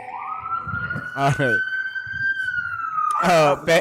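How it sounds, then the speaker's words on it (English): A wailing ambulance siren passes with one long steady tone, loud and close, while people talk over it in a busy street setting. "That's the ambulance."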